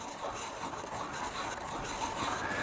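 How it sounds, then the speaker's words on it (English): Ink stick ground against a stone inkstone while preparing thick ink for Chinese painting on rice paper, a steady, close, continuous gritty rubbing that runs unbroken without pause or voices. "You can grind until you see the traces in the bottom of the Inkstone."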